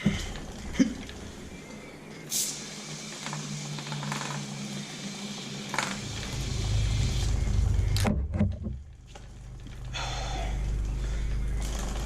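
A KTM 625 motorcycle with new tires being ridden: a low engine rumble that swells in after some quiet handling noises, drops out briefly, then returns as a steady drone toward the end.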